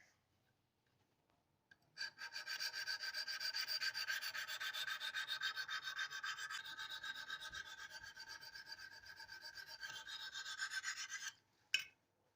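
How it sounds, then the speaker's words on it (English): A knife blade is sharpened on a Wicked Edge sharpener, a close, steady rasping rub of stone on steel lasting about ten seconds before stopping, with no talk over it. "one of the last steps is to sharpen the edge, and we do that on the wicked edge."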